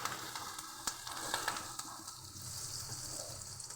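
Onions sauté in a pan with a soft, uneven sizzle and light stirring clicks close by, fairly quiet and without speech.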